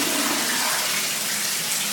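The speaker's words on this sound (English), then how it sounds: "then I'm going to flush the toilet." A toilet flushes in a bathroom, a loud, steady rush of swirling water close by, filling the whole moment without any talk.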